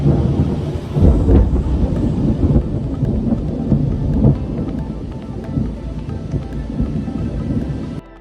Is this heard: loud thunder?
yes